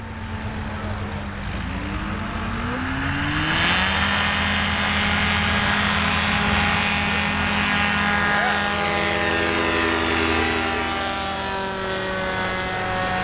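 A STOL airplane with leading-edge slats and a modified Rotax 915 engine flies past at an Oshkosh evening STOL competition, its propeller drone rising and sustained loud over a steady crowd-and-wind background.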